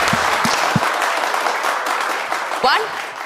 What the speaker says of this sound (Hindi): गोटे जोरदार ताली हो जाओ